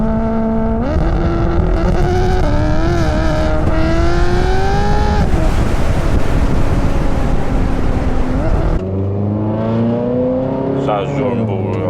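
Ferrari California with a flat-plane crank engine revving hard, pitch climbing in sweeping steps, then dropping back to a lower idle near the end; loud and close, with a voice briefly under it.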